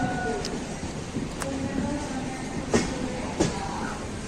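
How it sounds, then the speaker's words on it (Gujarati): A Mumbai local train rumbles past with a steady, continuous roar and occasional sharp clanks of wheels on rail joints, close and loud throughout. "અને સામે લોકલ ટ્રેન છે બોમ્બેની."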